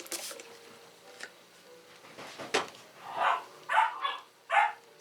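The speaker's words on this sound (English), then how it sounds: "my puppies are making a buttload of racket" Puppies bark indoors in a few sharp, nearby bursts spaced about a second apart, following some quieter knocks and rustling.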